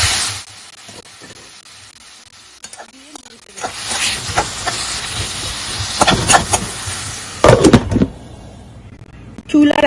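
Water poured over green tomatoes in a hot wok sets off bursts of hissing, steaming sizzle that swell and fade, with stirring clatter and a voice talking at times.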